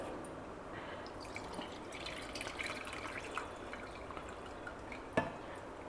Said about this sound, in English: Now just drain out the water.